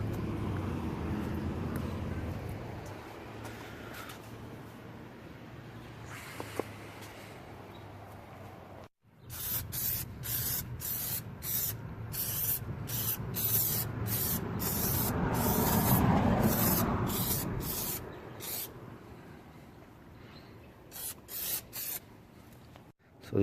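Plasti Dip sprayed from an aerosol can onto Audi A4 wheels, a long series of sharp, evenly spaced hissing bursts up close, the nozzle pressed again and again over a low outdoor rumble.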